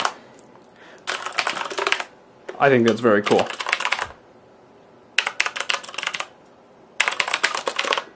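Bursts of clicky typing on a Corsair Vengeance K70 mechanical keyboard, rapid and close, pausing between runs while a person speaks briefly in a gap.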